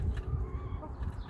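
Chickens in a coop covered with chicken wire cluck softly and intermittently, fairly quiet and close, with low shuffling in the background.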